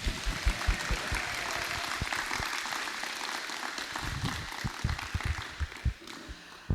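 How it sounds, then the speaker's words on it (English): An audience claps together at the close of a Halloween-themed Biography Day program, with a steady wash of applause and louder individual claps standing out as the clapping tapers off. "Let's clap one more time."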